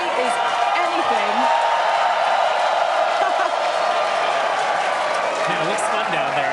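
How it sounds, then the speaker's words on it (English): A large crowd cheering and murmuring as the countdown to the SpaceX Starship launch reaches T-minus five minutes, a steady wash of distant voices with occasional whoops rising above it. "Everyone cheering as we get into T-minus 5 minutes"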